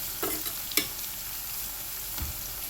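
Bitter gourd slices sprinkled with turmeric fry in a pan and get stirred, giving a steady close sizzle broken by a few sharp scrapes and clinks of the spatula, with no voices.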